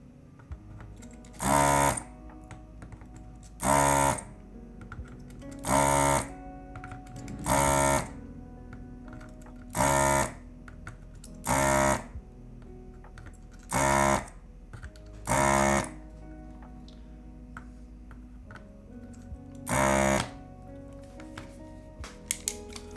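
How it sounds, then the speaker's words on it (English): A machine whirs in regular loud bursts, about nine of them, each lasting roughly a second and sounding somewhat like a vacuum cleaner, with a quiet hum between them. "It's a little bit of a vacuum cleaner."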